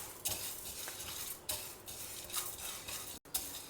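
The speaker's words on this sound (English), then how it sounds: "Use a heavy pan and roast it over a low flame till the dal slightly changes color." Dal roasts in a heavy pan over a low flame, with scraping stirs, soft clinks of a utensil against the pan and a faint sizzle; close and fairly quiet, no talk.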